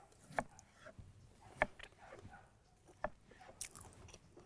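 Someone biting into and chewing a couscous salad, close soft crunches and wet mouth sounds spaced out over a few seconds with no talking.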